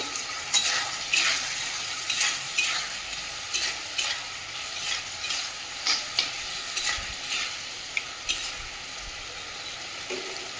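Eggplant pieces fry in a little oil for a yardlong bean vegetable dish, with a soft steady sizzle broken by frequent sharp scrapes and clinks of a spoon stirring the pan.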